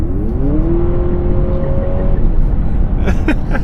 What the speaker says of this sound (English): So that's a 2-liter 4-cylinder engine, obviously with twin motors for the all-wheel drive. And let me just rev it a little bit more.